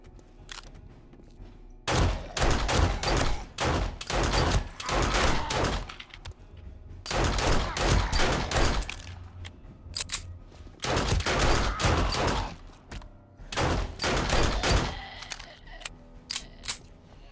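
Pistol fire in the video game 7 Days to Die comes in rapid clusters of sharp, punchy shots, four bursts separated by brief quiet gaps, loud and close.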